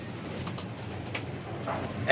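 Pet pigeons coo softly and repeatedly at close range, low murmuring calls running through a short stretch with some background voice.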